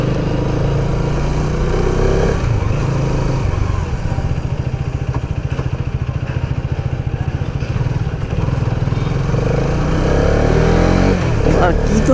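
A Hero Karizma XMR 210, a 210 cc motorcycle, is ridden with a steady, close engine drone and rapid low pulsing that swells near the end, while a voice talks over it.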